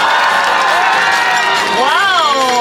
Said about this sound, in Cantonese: 大家要繼續有你嘅熱烈嘅掌聲啊，同埋你嘅歡呼聲